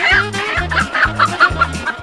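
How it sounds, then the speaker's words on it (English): Chickens cluck in quick, loud repeated bursts close by, a busy chatter of fowl with a steady rhythm. "Trying to catch chickens."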